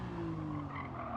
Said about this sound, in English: I'm braking on racing tyres.